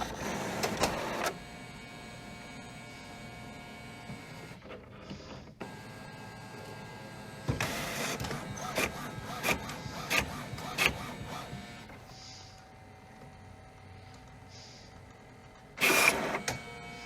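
A printer copy machine runs a scan, with mechanical whirring and motor passes broken by several loud bursts and quieter humming gaps, no voices over it.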